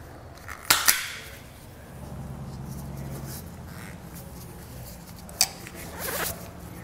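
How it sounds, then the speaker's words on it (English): Wire is stripped and a ring terminal is crimped while installing a tail light wiring kit for a towed vehicle. Close, sharp clicks and brief rasping bursts are separated by quieter stretches of low rumble. "strip back the wire and crimp the ring terminal in place"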